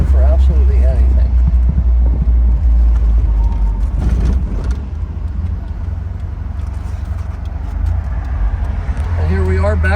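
A 1973 Alfa Romeo's engine idles with a low, steady rumble close by, with someone talking over it most of the way through.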